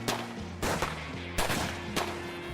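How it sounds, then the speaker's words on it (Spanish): Dramatized shootout gunfire: a rapid series of loud sharp shots in bursts of about four to five, with no talk, over a steady low background tone. "los dos hombres desenfundaron sus armas y se enfrentaron a balazos"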